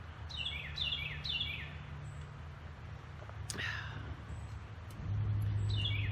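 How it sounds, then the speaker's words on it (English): Outdoors, a songbird sings three quick descending trills in a row, then another near the end, over a steady low background rumble. "there's our bird. Our bird is back in full voice"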